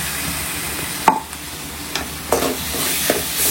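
Ginger garlic paste sautés in a pan while crab curry is being cooked. A soft sizzle runs underneath, and a few sharp stirring clanks and scrapes come at intervals, close by.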